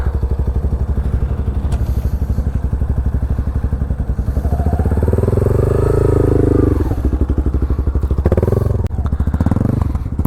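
A motorcycle engine pulls steadily as the bike leans through a corner during a riding skills training session, its revs rising and falling, loud and close throughout.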